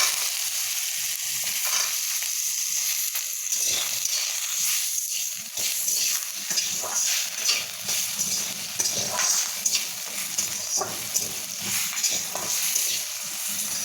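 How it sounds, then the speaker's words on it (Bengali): Potatoes fry in oil in a wok with a continuous close sizzle, broken by scraping stirs that come and go in uneven bursts throughout. "আলুটা একটু ভাজা হোক।"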